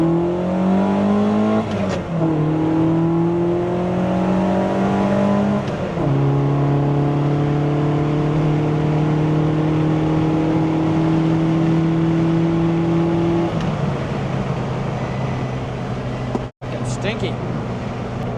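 A car with an enlarged A-Series engine and a suspected exhaust leak accelerates uphill, its steady engine note climbing through several gear changes close by, with a brief dropout near the end.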